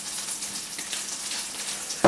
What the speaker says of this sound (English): the noise you're hearing right now is the melting of the butter because I'm doing another batch